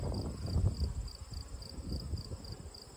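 Honey bees hum low and steady at an open hive during a midsummer inspection in a nectar flow, with a soft droning buzz and faint rustling close by.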